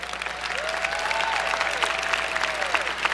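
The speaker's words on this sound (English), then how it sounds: "let's applaud these graduate students and these students" Audience applause at a winter commencement ceremony for graduate students, dense sustained clapping filling a large hall, with a voice faintly audible over it.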